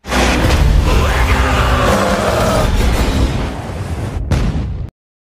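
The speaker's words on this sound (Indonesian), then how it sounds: "beberapa detik setelahnya, bom pun meledak dengan kekuatan yang sama sekali nggak ngotak" A kaiju bomb detonates in the anime Kaiju No. 8, producing a loud, sustained rumbling blast roar that lasts about five seconds before cutting off abruptly into silence.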